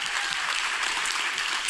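A church congregation claps in a dense, even burst of applause with no talk over it.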